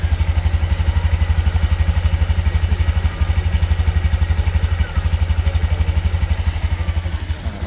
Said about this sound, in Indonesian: suara motornya.